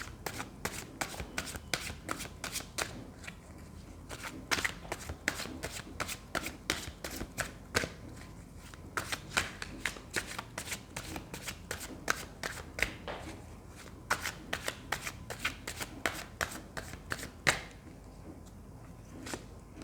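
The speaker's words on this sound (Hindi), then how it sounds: "तो जब तक मैं कार्ड शफल कर रही हूँ" Tarot cards are shuffled over and over, giving quiet, fast rhythmic riffling and snapping bursts with brief pauses between them, close by and without speech.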